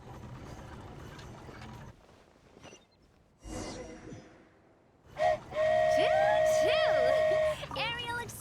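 Train whistle from the video game Genshin Impact: a loud, sustained steady tone after earlier mechanical rumbles, while a voice speaks and seems to imitate the whistle over it.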